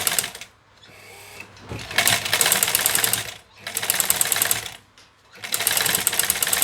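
Black sewing machine stitching drill fabric with heavy jeans thread, running in three loud, steady bursts of rapid mechanical clatter separated by short pauses, close by with faint background noise between runs.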